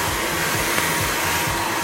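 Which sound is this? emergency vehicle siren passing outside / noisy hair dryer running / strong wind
noisy hair dryer running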